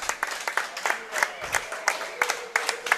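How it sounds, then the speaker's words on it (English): An audience gives a round of applause at a soccer hall-of-fame gathering, a dense, steady patter of many hands clapping at close range, sustained through the moment without a pause. "Let's give him a round of applause."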